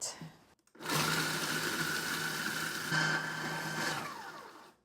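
A blender grinds Oreo cookies, cream filling included, into crumbs for a pie crust. A loud, steady whirring runs for about four seconds after a brief start and then winds down. No talk is heard.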